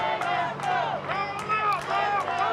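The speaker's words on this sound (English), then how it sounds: "Crowd trying to get behind AJ Frost here." A wrestling crowd cheers and chants in rising, rhythmic surges of voices, loud and close, with shouts of support swelling and dropping throughout.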